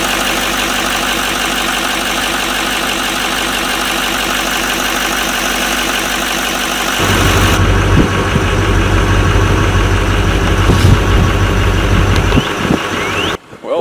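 Chevy Silverado Duramax turbo diesel engine idling steadily and loudly up close after starting, with a deeper rumble settling in partway through and a brief knock near the end.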